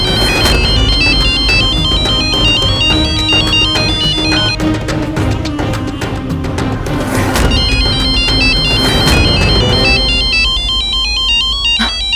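A mobile phone ringtone plays loudly and repeatedly for about twelve seconds, a bright electronic melody cycling in phrases with brief gaps, close by and without talk over it.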